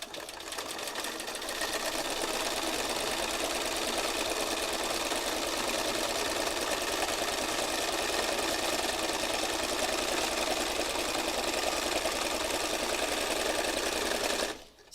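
A sewing machine runs continuously through free motion stitching on a fabric heart, a dense, steady, close whirring hum that holds for the whole stretch and cuts off at the very end.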